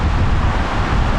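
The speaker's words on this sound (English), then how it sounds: "It's very windy." Loud, constant wind roars and buffets against the microphone, a dense rushing noise with no pauses, at a Scottish Highlands campsite.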